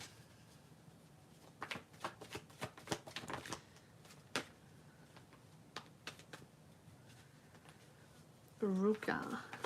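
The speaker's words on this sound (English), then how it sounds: "Give me one moment to shuffle." Tarot cards being shuffled in quick bursts of soft riffling and flicking, fairly close and quiet, followed by a brief voice at the end.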